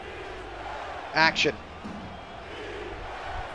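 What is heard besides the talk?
stadium crowd cheering on their feet at football game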